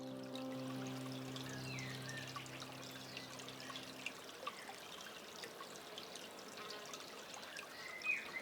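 Water trickles and flows steadily in a forest stream at a native forest reserve, a soft continuous babble heard at low level; a faint tonal hum fades out partway through.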